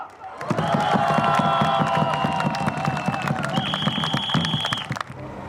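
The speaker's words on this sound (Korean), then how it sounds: "여러분들의 뜨거운 박수와 함성으로 열어젖히겠습니다" Rally crowd at a learning-materials teachers' union event breaking into sustained applause and cheering, loud and dense for several seconds with whistles and shouts over the clapping before tapering off.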